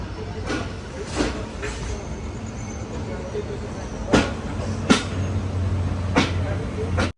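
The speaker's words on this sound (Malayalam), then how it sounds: "ഗദഗിന്ന് ട്രെയിൻ എടുത്തിരിക്കുകയാണ്." Continuous low rumble of a moving sleeper-class train leaving Gadag on the Vijayapura to Mangaluru Central route, with rhythmic clacks and rattles over the tracks, heard from inside a carriage.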